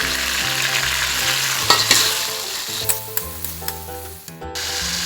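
Rendang spice paste with cinnamon and cardamom stir-fried in a pan for a kampung chicken rendang, a steady close sizzle with scraping stirs and several sharp utensil clinks, no voices.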